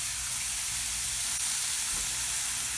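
Ground bison, ten ounces, dropped into a hot pan of fragrant onions gives a steady, fairly loud broadband sizzle that holds evenly throughout, with a faint stir or shift near the end and no voices.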